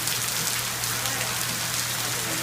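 Steady rain falling at Port Canaveral, a constant even hiss of drops on surfaces, close and fairly loud throughout with a low hum underneath and no talking.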